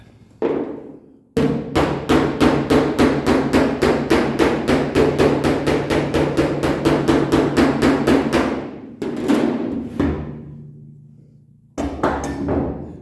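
Rapid, steady hammer blows with a hammer and dolly on a dented car body panel, dozens of sharp metallic taps in a fast even rhythm with short pauses between bursts, close and loud.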